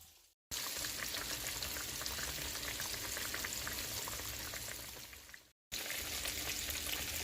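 Breaded tilapia frying in a pot of oil, a dense, loud, continuous sizzle and crackle broken by two brief cuts to silence.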